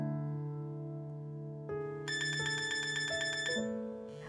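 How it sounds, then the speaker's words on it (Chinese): A phone alarm ringtone plays a simple electronic melody of sustained tones that shift pitch in steps, followed by a brighter rapidly pulsing chime pattern, clear and alone with no voices. "我还设定你的专属闹钟哎"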